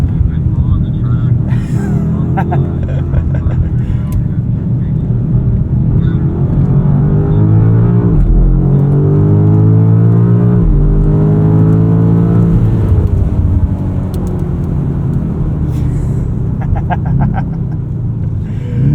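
A 2025 BMW M5 being driven hard on a wet race track, its engine a loud, continuous close-up rumble that rises and falls with revving and shifting, with a driver talking over it throughout.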